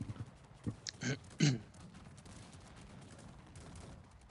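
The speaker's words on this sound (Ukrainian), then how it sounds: "Гармати пішли в хід." Several booming cannon shots in the strategy game Cossacks 3 fire in quick, uneven succession near the start, then fade into a low rumbling battle ambience.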